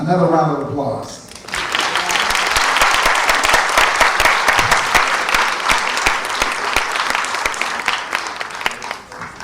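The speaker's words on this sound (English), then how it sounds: "Another round of applause." An indoor audience at a cultural discussion session claps in sustained, dense applause lasting several seconds, loud and close, following a brief spoken introduction at the start.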